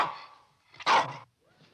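A single dog gives one short, sharp bark close by, with faint whimpering before it and brief quiet around it.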